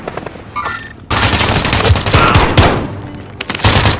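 Loud, close automatic gunfire in a video game, heavy continuous bursts of rapid shots after a brief quieter opening, with a few short pauses between the volleys.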